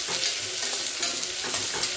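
Garlic and dilpasand (ivy gourd) stirred and sautéed in a pan over low heat, giving a steady close sizzle with scraping spatula strokes repeating through the clip.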